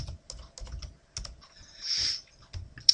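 Computer keyboard typing comes in short clustered bursts of close, light key clicks with brief pauses between them, plus a soft swishing sound partway through.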